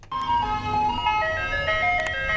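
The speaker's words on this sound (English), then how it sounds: "Now play the old school original ice cream truck." A tinkly electronic ice cream truck melody plays, bright and fairly loud, with a low engine rumble underneath.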